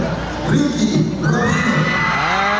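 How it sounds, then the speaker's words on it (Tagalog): Crowd of churchgoers shouting and cheering at a church anniversary celebration, a loud sustained mix of raised voices with rising yells near the end. "Yan, yan, mga sigaw na ganyan."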